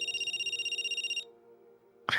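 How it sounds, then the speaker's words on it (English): A telephone rings with a bright electronic ringtone, pulsing rapidly and steadily for just over a second before cutting off, followed by quiet and then a sudden loud burst of rustling noise. "unfortunately to the sound of a phone ringing"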